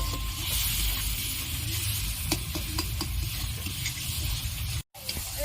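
Spice paste with chili powder and a little water sautés in a pan, a steady sizzle broken by several sharp spatula scrapes and taps, with a brief dropout near the end.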